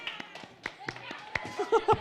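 Audience at a live event clapping in scattered bursts to cheer on two participants, with talk and laughter mixed in.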